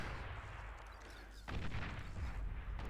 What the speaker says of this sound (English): We got the T1 artillery pieces out.